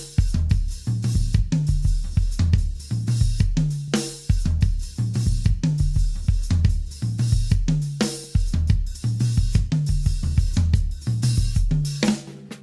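A full drum kit drives a dense, steady groove, with rolling toms layered into a repeating pattern that emulates a large drum ensemble. The hits are loud, close and continuous.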